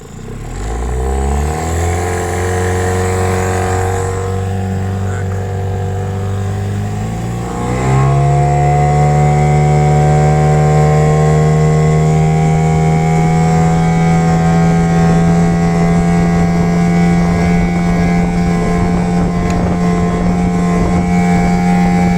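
A loaded Grouper 360 motorboat runs at full speed into a light headwind, its Mercury 10 hp outboard holding a loud, steady high whine that climbs in pitch early on and then stays constant over wind and water noise.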